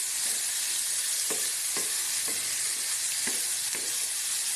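Ampalaya (bitter gourd) frying in a pan, a loud continuous hiss of sizzling oil with soft spatula strokes at a slow, roughly regular pace, close up.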